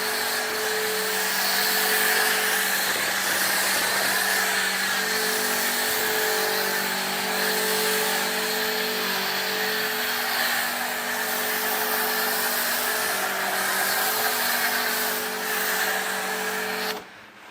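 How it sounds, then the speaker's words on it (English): A snow foam lance sprays foam onto a car, giving a steady, loud pressure-washer hiss and whine close by that runs continuously and then cuts off at the end. "it should not take you 5 minutes to snow foam a car"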